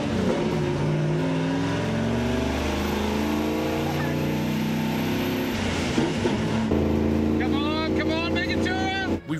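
A RAM 2500 pickup and a 6x6 LC79 Landcruiser drag race down a closed airstrip in Arnhem Land, loud engines droning and revving close by with a gear-change dip, and someone talks over the roar.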